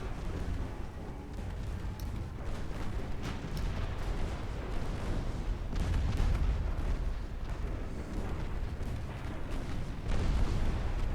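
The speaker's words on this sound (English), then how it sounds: "Torpedo away." Naval battle in a campaign strategy game: a torpedo launch amid continuous rumbling cannon and artillery fire, with repeated booms and bursts layered throughout and no voices.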